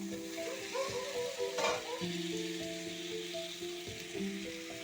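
Fried pointed gourd pieces go into oil with well-cooked spices, setting off a steady close sizzle with some stirring. Sustained tonal lines run under the frying, and nobody speaks.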